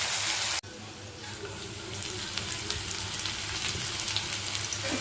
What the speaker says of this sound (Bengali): তেলটা গরম হয়ে গেছে, উচ্ছেটা ভেজে নিই